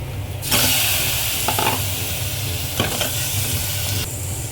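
Washed pork trotters sizzle loudly in a pan of oil and masala paste for a soup, a steady broadband frying hiss with a few brief stirring scrapes and no talk.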